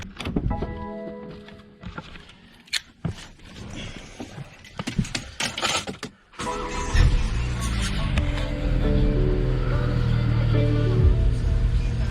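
After some clicks and clatter, the 2.0L turbo B46 engine of a 2019 BMW X3 cranks and catches after an oil filter housing replacement, then settles into a steady, loud idle running on.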